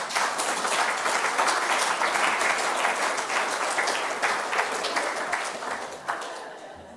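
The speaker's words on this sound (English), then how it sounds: "I actually think you deserve a round of applause for it." Audience at a gala dinner applauding steadily with dense, sustained clapping that holds loud for several seconds, then tapers off near the end.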